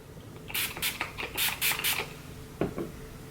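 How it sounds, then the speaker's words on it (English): Several short hissing bursts from a spray bottle onto a makeup brush in quick succession, followed by a light knock. "I'm gonna go ahead and spray the brush down."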